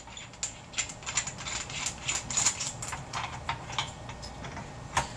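A cap is screwed onto the base of an AmScope single-arm boom stand, making a faint, rapid string of small plastic clicks and ticks close by, with no speech.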